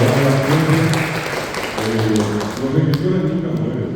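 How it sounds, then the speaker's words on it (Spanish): An audience applauds at a university tribute ceremony for Paraguayan writers, loud continuous clapping heard close, mixed with speech from the hall. "Un aplauso para Mabel también"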